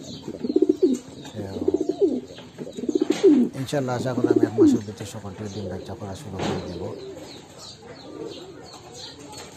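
Lahori fancy pigeons coo in repeated rolling bursts close by, some calls overlapping, while someone talks over them in the middle of the stretch before the cooing fades.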